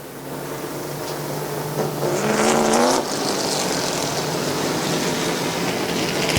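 CRS Super Trucks race around Midvale Speedway on a 2019 championship night, a loud continuous engine roar with one truck's rising whine swelling past up close before the field settles back into a steady drone.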